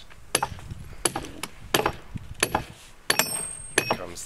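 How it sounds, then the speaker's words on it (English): A chainsaw-cut wood slab cracks and splits off in a series of sharp, close snaps and creaks spaced through the moment, each a brief crisp burst against a quiet background. "Just the sound of wood cracking"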